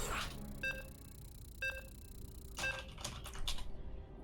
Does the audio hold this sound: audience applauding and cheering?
no